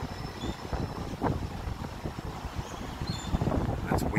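Gusty wind buffets a resort balcony ahead of an approaching rain storm, a steady broadband rush with stronger swells, rumbling against the microphone close by.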